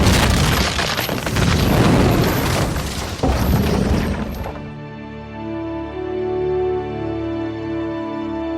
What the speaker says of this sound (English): You had to feel the impact as it smashed into the door.